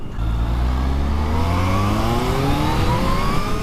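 A Kawasaki Z-H2 motorcycle accelerates hard with the front wheel lifting, its engine note climbing sharply and steadily in pitch. The loud, close roar is heard alone.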